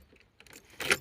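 Car key pulled from the ignition of a Ford Mondeo MK4 2.0 TDCi, a brief metallic key jangle and click building to one louder rattle near the end, close and quiet, with no talking.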